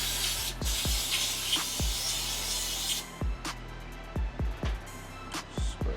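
Spray can hissing in one sustained burst for about three seconds during car chassis and engine prep, followed by a series of light knocks and clicks, close and without talk.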